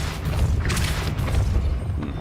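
A Depulso spell cast in the video game Hogwarts Legacy gives a booming, rumbling burst that lingers for about two seconds over steady low background ambience.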